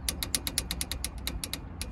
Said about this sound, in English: And torque it down to manufacturer specification.